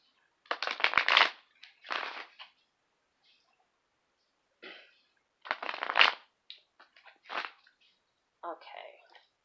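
Tarot cards being shuffled in several separate bursts of riffling and sliding, close and fairly loud, with short quiet gaps between handfuls and no talking.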